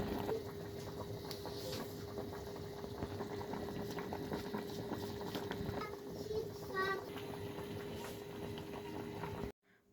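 A pot of potatoes bubbles at a steady boil under a constant low hum. The sound stays even throughout and cuts off abruptly at the end.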